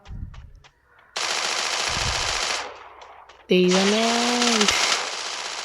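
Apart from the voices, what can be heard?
gunfire and headshot in Free Fire video game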